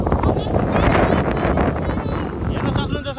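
Strong wind blows during rainy-season weather, a loud, steady gusting roar buffeting the microphone for the whole stretch.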